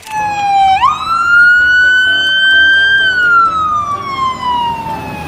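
A toy fire engine's siren wails loudly and continuously, its pitch sweeping upward, holding high, then sliding slowly back down, with faint background sounds beneath.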